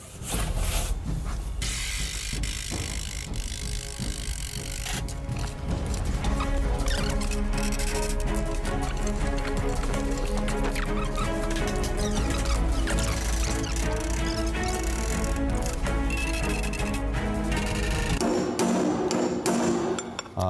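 Rapid, loud hammer blows on the sheet-metal body panel of a Porsche being reshaped after axe and sledgehammer damage, ringing metallic strikes in dense irregular bursts with no talk.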